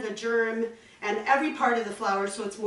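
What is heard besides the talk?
None of the usual background noises is heard.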